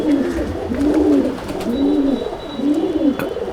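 A male pigeon in a pigeon loft gives four rhythmic, evenly spaced coos, close and clear, with no talking.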